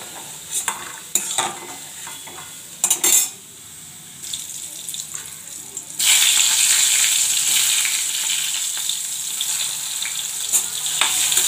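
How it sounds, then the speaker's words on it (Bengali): Potato frying in oil in a pan, bursts of stirring and clatter at first, then a loud steady sizzle taking over and continuing close up, no talk. "আলুটা ভাজা হচ্ছে, তারপরে বেগুনটা ভেজে নেব"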